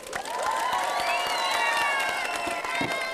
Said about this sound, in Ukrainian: І ваші оплески для Галинки.